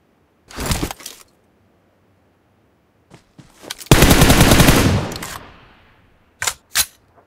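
Several bursts of rapid gunfire in the video game BGMI, including one long sustained automatic volley in the middle, with short sharp shots before and after; crisp and close, no talking.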